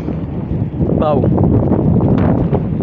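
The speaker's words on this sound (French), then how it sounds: "il y a beaucoup de vent" Strong wind buffets the microphone during a mountain bike ride, a loud, continuous rumbling roar filling the whole clip with no letup.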